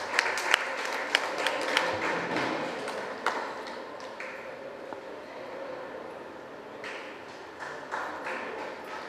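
An audience claps at a community association's annual meeting and student merit award ceremony. The applause begins with sharp, close, individual claps, then settles into a softer, sustained patter that fades and swells again toward the end.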